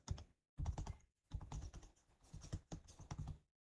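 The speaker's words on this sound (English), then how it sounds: "We will type here health plus." Quick bursts of typing on a computer keyboard, close and clattery, in several clustered runs with short silent gaps between them.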